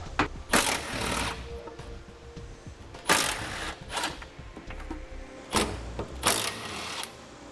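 A power tool spins out the 14mm bolts holding the factory tow recovery hooks on a 2003 Hyundai Santa Fe frame, several loud, separate bursts of whirring and rattling between quieter pauses, near the mic with no talking.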